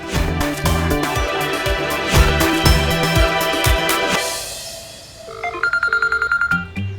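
A mobile phone left behind rings with a repeating electronic tone, then shifts to a brighter, rapidly pulsing ringtone pattern near the end.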